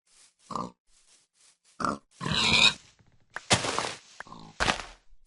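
Pig grunts in a video game: several short, separate grunts and oinks spaced across the moment, some louder and noisier than others, with no talking.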